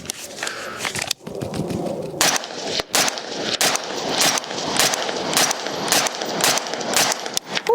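IWI Carmel rifle firing 55 grain .223 rounds outdoors at a shooting range, a steady string of about ten loud, sharp shots spaced roughly half a second apart, each cracking close and ringing briefly.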